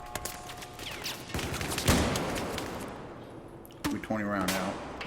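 Shotgun blasts in a competitive multiplayer shooter match, several sharp cracking shots among other gunfire, under a fast excited commentator voice.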